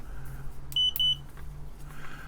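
A continuity tester checking straight continuity on an old estate-sale device gives two short, bright beeps in quick succession, close and clear over a low steady hum.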